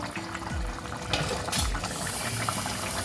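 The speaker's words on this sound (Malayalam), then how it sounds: "കറിയൊക്കെ നല്ല വെട്ടി തിളയ്ക്കുന്നുണ്ട്" Papaya masala curry bubbles vigorously in a pot after being covered for ten minutes, a steady close simmer of popping and gurgling with no voices.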